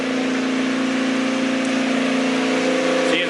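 A Honda Civic's D16 engine, run again after sitting five years, hums steadily at a constant idle with a strong tonal drone, close and loud throughout with no talk.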